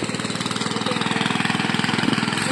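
A machine churns flooded paddy field mud for rice planting with a loud, steady engine chug whose fast rhythmic pulses run throughout, near and without talk.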